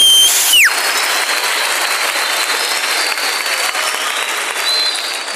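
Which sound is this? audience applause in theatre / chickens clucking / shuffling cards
audience applause in theatre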